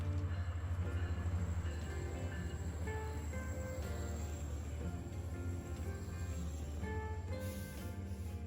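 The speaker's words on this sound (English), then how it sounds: "This train travels from Toronto to Vancouver, and fun fact, the Canadian was originally a CP rail service" The Canadian, a long-distance Toronto-to-Vancouver passenger train, rolls past with a steady low rumble and rhythmic wheel clatter, moderately distant, alone without talk.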